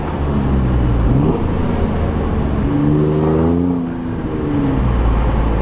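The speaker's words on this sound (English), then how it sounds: "This thing cracks, it pops, it bangs, it's so loud." An Alfa Romeo Giulia Quadrifoglio's powerful engine roars loudly and steadily, rising and falling through revs, with a rough exhaust rumble throughout.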